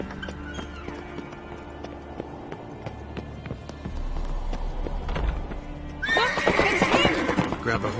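A horse in The Witcher 3 video game whinnies and gallops with clip-clopping hooves, the neighing loud and close, while game dialogue and music play underneath.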